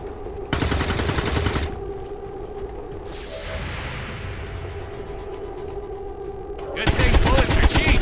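Gunfire from an XCOM 2 firefight against Advent troops: two loud automatic bursts, one near the start and one at the end, with quieter shots and a whoosh between them.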